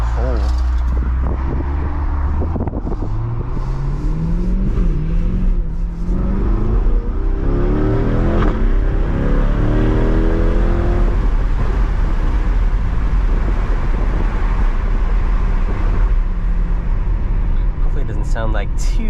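A C8 Corvette driven at night with the windows down, its engine rumbling and rising steadily in revs as the car accelerates, with wind and road noise throughout; a person talks over it.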